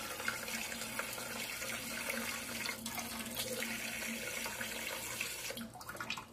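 Liquid is poured over cucumbers in a glass jar, making a steady splashing, gurgling stream that continues throughout at moderate loudness, with no talk.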